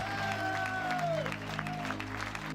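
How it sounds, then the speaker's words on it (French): A crowd applauds at the finish of the final stage of a mountain bike raid in Le Cheylard, Ardèche, with dense, steady clapping throughout and a thin tonal sweep gliding down over it early on. "des applaudissements pour le premier et le dernier"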